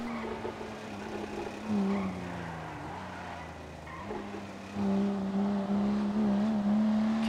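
A car brakes and skids in a GTA roleplay game, tires squealing in a sustained rising whine over steady engine noise, loud and close.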